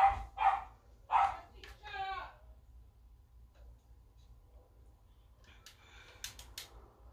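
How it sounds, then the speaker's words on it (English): A dog barks several times in the background indoors, a few quick yips near the start followed by fainter sounds later, with no speech over it. "It's just my dog barking."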